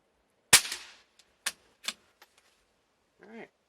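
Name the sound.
CCI 22 Quiet .22 LR rifle shots at 25 yards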